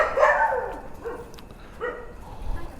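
A dog barks at night outdoors during a food delivery run, a few sharp barks and yips at moderate distance in a short irregular burst, with faint background noise.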